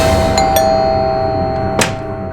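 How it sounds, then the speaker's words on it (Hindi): Household doorbell chiming a few more times in quick succession, a couple of bright rings close together early, then a sharp clanging hit, fairly loud against a steady hum, no talking. "क्यों पागलों की तरह घंटी बजा रहे हो?"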